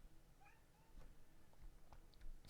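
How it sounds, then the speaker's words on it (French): A house cat meowing to have a door opened, a few faint, distant mews sounding softly over low room noise, with a couple of small clicks and a brighter burst at the very end. "Il y a mon chat qui est en train de miauler pour que j'ouvre la porte."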